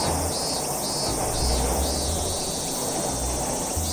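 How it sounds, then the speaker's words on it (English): A dense chorus of cicadas drones and pulses continuously outdoors, a loud, high, shimmering buzz with rhythmic swells and no voices. "What makes cicadas so special is their sounds."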